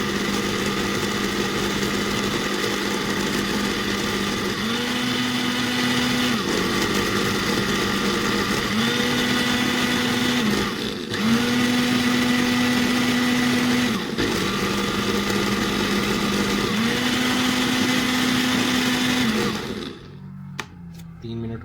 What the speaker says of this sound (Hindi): اسی طرح آپ نے اسے گرائنڈ کر لینا۔